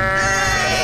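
Goats in the Goat Simulator video game give a loud, sustained, wavering bleat that fills the whole moment, close and strong, with no talk over it.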